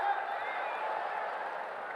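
Audience applause at a Navjot Singh Sidhu political speech, a steady sustained wash of clapping from a crowd, fairly faint and even, with no voice over it.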